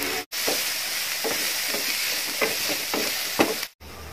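Ginger, garlic, green chili and curry leaves fry in a pan for a potato snack, giving a steady loud sizzle with a few faint stirring scrapes and short breaks.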